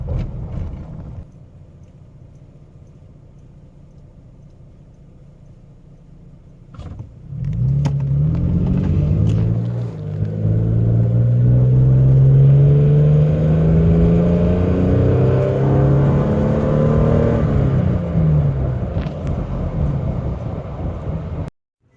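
A 2nd-generation Toyota Tacoma TRD with a 4.0L engine and Gibson cat-back exhaust idles quietly, then accelerates hard from a light with a loud, deep, rising exhaust drone that builds through several gear pulls before fading.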